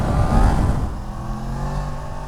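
A 2019 Yamaha MT-10 SP motorcycle engine roars up loud and close as the throttle opens, the revs swelling sharply at first and then holding a strained, rising tone.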